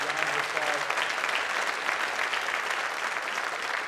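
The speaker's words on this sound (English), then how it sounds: "Y'all give them a big round of applause." A church congregation gives a round of applause for a group of teenagers at a student-led Sunday service, steady dense clapping filling the room for several seconds.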